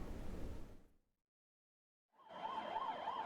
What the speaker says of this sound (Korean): 구급차가 황급히 사람들을 실어 나릅니다